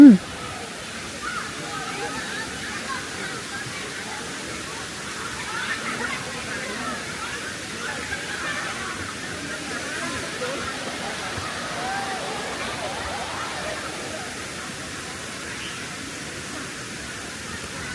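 A Thai waterfall pours in a steady, broadband rush of water, an even, continuous roar heard at moderate distance throughout.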